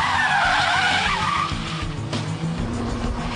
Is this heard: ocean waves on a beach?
no